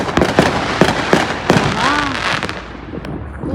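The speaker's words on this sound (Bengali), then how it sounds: "আর এখনই দেখুন কি বাজি ফাটছে চারিদিকে।" Firecrackers burst outside at night in a rapid, loud series of sharp bangs and crackles, with one rising whistle among them. The noise then thins out toward the end.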